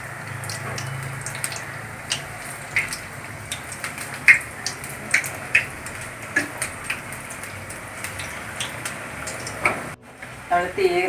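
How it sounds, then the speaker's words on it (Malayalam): Banana fritters frying in coconut oil over low heat give a soft, steady sizzle with scattered pops and crackles, ending in a brief clatter of handling. "നമുക്ക് വെളിച്ചെണ്ണയിൽ നിന്ന് വറുത്ത് വരാം"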